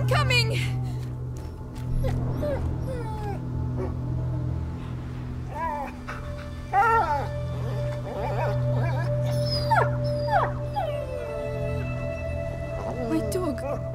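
A dog named Leo whimpers, yips and howls in A Plague Tale: Innocence, with rising and falling cries over a low droning background, while people talk nearby.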